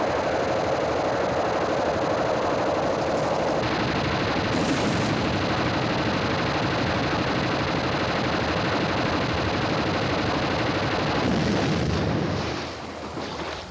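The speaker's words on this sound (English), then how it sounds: "gunships now rely on a weapon called phalanx. It automatically locates and tracks its target, then unleashes a barrage of lethal fire" A Phalanx close-in weapon system on an aircraft carrier fires a sustained barrage at incoming missiles, a loud continuous roaring rip of rapid gunfire that runs almost the whole clip.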